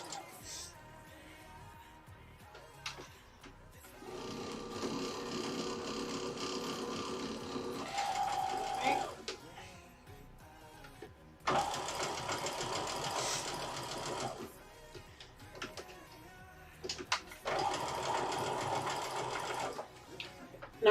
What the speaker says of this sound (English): Chain piecing just basically means you're just going to sew one right after the other.